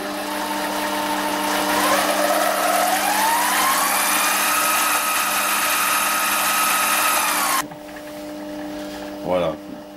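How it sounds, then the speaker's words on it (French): A GMD 400 metal lathe with a three-jaw chuck spins up, a loud steady motor whine rising in pitch as speed increases, then drops abruptly to a quieter hum as it cuts off, with a brief clunk afterward. "mon tour se met à tourner. Mon mandrin 3 morts se met à tourner."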